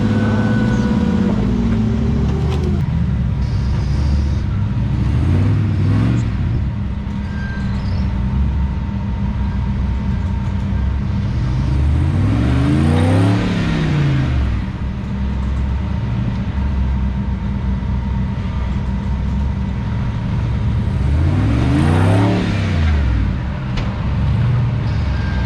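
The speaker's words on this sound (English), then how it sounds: "Patrick making his way through, as you guys can hear when he switches gears here" A high-revving LS-powered car at a drift weekend memorial at Frontenac Farms roars loudly and continuously, with engine pitch climbing and dropping sharply as it shifts gears several times.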